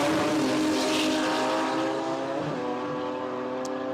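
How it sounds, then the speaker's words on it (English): A modified compact drag car, a 3-speed RX3 street car, screams down the strip at a qualifying event, its loud engine note climbing and dropping as it shifts through the gears. "You can hear that running through the gears."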